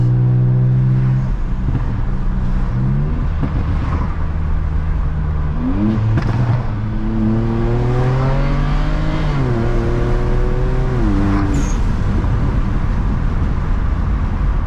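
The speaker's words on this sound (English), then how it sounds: "I'll let y'all hear the car a little bit. I think I can hear everything going. Blow off valve" A turbocharged stage 2 BMW 335i engine revs up and down repeatedly in rising and falling surges, with a brief sharp hiss near the end from the blow-off valve.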